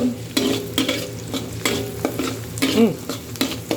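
Crushed ingredients stirred through hot oil in a frying pan, a steady sizzle with repeated scraping strokes of a spatula and occasional metallic clinks, close and continuous.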